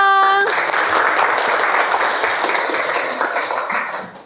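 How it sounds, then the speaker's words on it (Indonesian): A classroom audience breaks into applause right after a short tone, with a dense burst of hand clapping that slowly fades over a few seconds. "Wah, tepuk tangan dulu dong."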